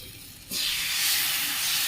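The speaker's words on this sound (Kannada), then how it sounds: "ಹಿಟ್ಟನ್ನು ತೆಗೆದು ಡೈರೆಕ್ಟಾಗಿ ಹಾಗೆ ಈ ಎರ್ಚಿದಂಗೆ ಹಾಕಬೇಕು" Neer dosa batter hitting a hot pan in a Mangalore-style kitchen, a sudden loud sizzling hiss that starts abruptly after a quiet moment and holds steady, close and alone.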